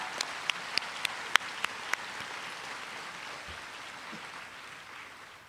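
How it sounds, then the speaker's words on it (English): A handful of sharp, separate claps open the moment at a journalism graduation ceremony, then give way to a steady, soft wash of crowd noise that continues to the end. "So I applaud you. I applaud you all."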